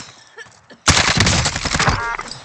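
In Call of Duty: Warzone, a sudden burst of loud, rapid gunfire erupts after a quiet moment, striking the player at close range and continuing as dense crackling shots with impact noise.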